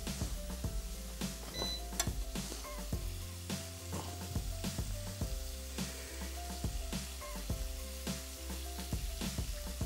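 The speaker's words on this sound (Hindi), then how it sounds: "जब तक ये फ्राई हो रहा है हम वो निकाल दें" Food fries in a pan with a steady crackling sizzle, joined by a dense run of rhythmic mechanical clicks and tonal beeps throughout, with no talking.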